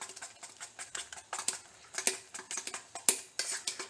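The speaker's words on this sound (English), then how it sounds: "get in there and stir it pretty vigorously" A spoon stirring canned cream corn vigorously in a pot, making rapid, rhythmic clinks and wet scrapes against the metal, close up and fairly quiet, with no talking.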